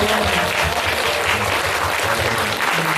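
Sustained audience applause at a Korean poetry and healing talk with poet Na Tae-ju, a dense steady clapping filling the room for about three seconds with no voices over it.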